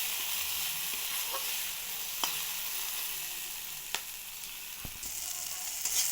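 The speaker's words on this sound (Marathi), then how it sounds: "टोमॅटो, मऊ होईपर्यंत याला असं परतून घ्यायचं" Tomatoes sautéed in a pan until soft, a steady close sizzle and hiss with occasional taps and scrapes of a spatula stirring.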